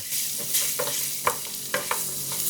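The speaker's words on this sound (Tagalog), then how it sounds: "Maggisa na tayo ng bawang." Garlic sautéing in hot oil in a pan, a steady close sizzle broken by occasional scraping stirs of a utensil.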